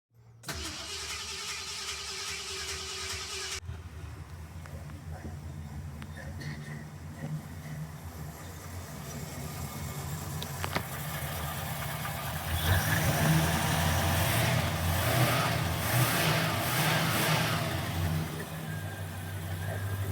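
A car engine cranks and catches after a fuel tank leak repair, then settles into a steady idle that swells louder partway through, running continuously up close with no voices over it.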